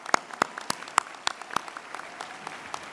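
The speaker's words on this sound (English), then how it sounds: "you can give yourself another hand of applause" Applause from a graduation ceremony audience, a sparse scattering of individual sharp claps tapering off over a few seconds, fairly faint and distant.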